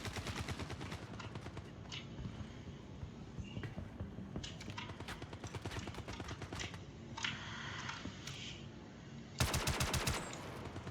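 Rapid bursts of automatic gunfire from a first-person shooter video game ring out continuously, with dense repeated shot clusters and a louder volley near the end, no talk over them.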